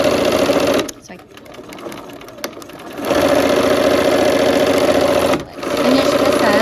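A sewing machine stitches a quilt block in two steady, loud bursts of fast, even whirring, with a short pause between them and a brief stop near the end.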